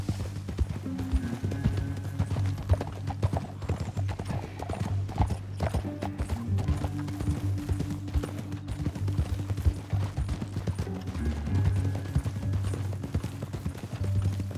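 Horse hooves galloping in Red Dead Redemption 2, a fast, continuous clip-clop rhythm running throughout with a low rumbling bed, a brief neigh and faint distant gunfire mixed in.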